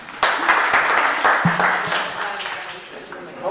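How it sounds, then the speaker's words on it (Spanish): A small group in a church youth workshop claps briefly, scattered hand claps with some voices mixed in, fairly close. "Aplauso."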